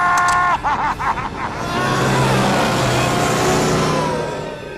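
A vehicle engine hums and revs steadily at close range, with brief murmuring voices at the start.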